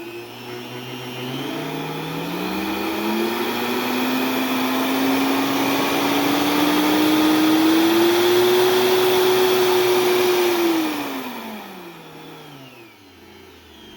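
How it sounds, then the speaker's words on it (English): A blender powered by a BLUETTI AC70 portable power station whirs up to speed, its motor pitch rising and holding steady before winding down, loud and close with no talk. "Has no issues running a blender."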